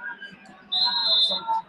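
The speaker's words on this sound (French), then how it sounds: "Mi-temps sifflé à l'instant par monsieur l'arbitre sur ce score" A referee's whistle signals half-time in the FIFA 17 football video game, a sustained shrill tone lasting about two-thirds of a second, heard fairly clearly over quieter game crowd noise.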